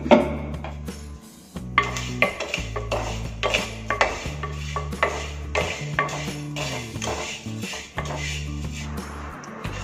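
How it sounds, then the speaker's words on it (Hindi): Dry sevai (vermicelli), 100 g, roasted in a hot handi on a gas stove, with steady scraping and clinking of a utensil against the pot, loud and close, broken by short pauses and with a low steady tone running underneath. "ये मैंने लिया है 100 ग्राम सिवई। मैं इसमें डालकर इसे भूनूंगी।"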